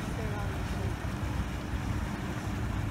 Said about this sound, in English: Got a guy coming through with a boat.